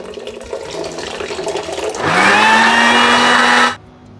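Water is poured into freshly blended raw mango juice, a close, loud rush that rises in pitch as the container fills, then stops abruptly. Nobody speaks.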